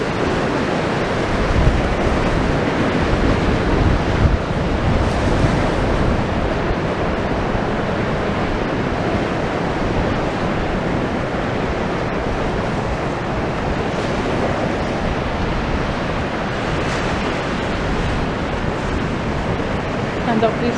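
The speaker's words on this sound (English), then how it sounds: "Watching the waves come in and relaxing and listening to the sound of the sea." Sea waves rolling onto a high tide along Blackpool's South Promenade on a bright, windy day, a steady broadband roar of surf with gusty wind noise buffeting the microphone throughout, loud and continuous with no talk.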